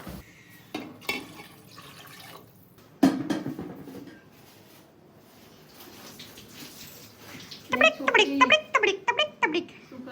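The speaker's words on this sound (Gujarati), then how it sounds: "હવે જશે આમાં પાણી" Water splashes and trickles into a pot for khichdi in short bursts, with quieter gaps between pours and louder, gurgling filling near the end.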